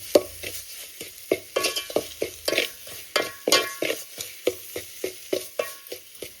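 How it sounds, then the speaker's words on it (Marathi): Goda masala sautéed in a pan for a traditional bangada fish curry, with a soft sizzle under repeated rhythmic spatula scrapes and stirs, close and clear with no talking. "आता मसाला जरा परतवून परतून घ्यायचं"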